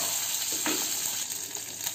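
Curry leaves hit hot oil already frying garlic cloves, giving a steady close sizzle and crackle with a brief stirring scrape, no voices.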